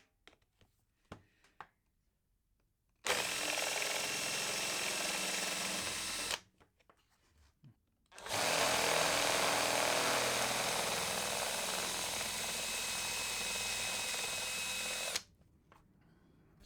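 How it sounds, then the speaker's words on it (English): A power drill grinds off rivet heads on a stock KTM Duke exhaust, two sustained loud whining runs, the second longer, separated by short pauses and light handling clicks. "with the heads of the rivets drilled off"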